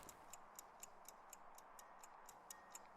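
A wall clock in the horror video game Phasmophobia ticks in a steady, even rhythm, about four ticks a second, quiet and close over faint room hiss, with no voices.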